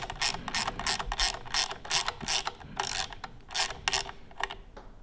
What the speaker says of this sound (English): you can put the nut back on, and that is a 10mm socket. So you just want to snug that back up.